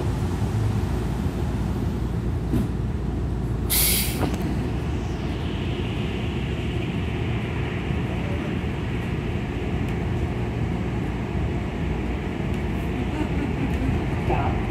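A SEPTA Market-Frankford Line subway train departs with a steady, loud rolling rumble. A brief hiss of air-brake release comes near the start.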